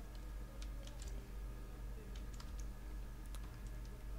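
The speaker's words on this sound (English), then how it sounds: "type down Google, hit enter and type down what is my IP" Keys on a computer keyboard tapped in short, scattered bursts of light clicks, close and fairly quiet over a steady low electrical hum.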